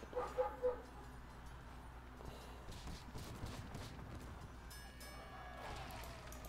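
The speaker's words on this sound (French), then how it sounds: "désolé si vous entendez le chien qui aboie" A dog barks somewhere in a home, three or four quick, faint yaps at the start, then a low background hum with nothing else standing out.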